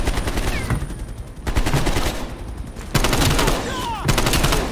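Heavy gunfire in the Call of Duty Black Ops Cold War campaign: loud, rapid automatic bursts crackle in quick succession, with brief lulls between volleys and sharp whizzing sounds over the shooting.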